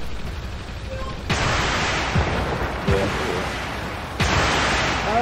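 A tank gun fires in World of Tanks, the Object 490 tank battle setting, with loud booming shots around 1.3 and 4.2 seconds, a lighter blast near 2.9 seconds, and a rumbling wash of battle noise between them.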